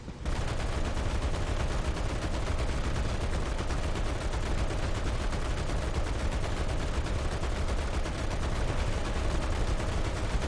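Dense, continuous gunfire from heavy-caliber weapons in the video game ARK, a steady loud barrage of overlapping shots with no pauses.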